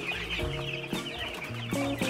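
Dense, steady clucking and peeping from a large flock of 1.5-week-old meat chicks, hundreds of them packed into a brooder on a Kenyan farm. Overlapping calls come close and fairly loud, with no talk.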